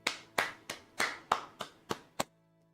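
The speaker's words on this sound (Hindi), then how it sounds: "वाह यार, तालियां हो जाए" One person claps slowly in a classroom lesson, eight sharp, evenly spaced claps close to the microphone that end abruptly, followed by near silence.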